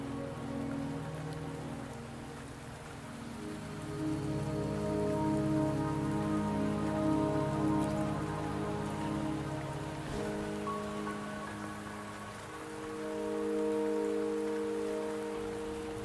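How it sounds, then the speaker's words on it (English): Steady rain falls across a scene in the video game Wuthering Waves, a dense continuous patter that swells and eases slightly over time, layered with soft tonal music beneath, with no voices. "Don't worry, the rain won't last much longer."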